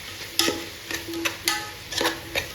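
Onion and tomato frying in a pan for a crab curry get stirred with a utensil, a handful of short scraping strokes in an uneven rhythm over a faint sizzle, near and without speech.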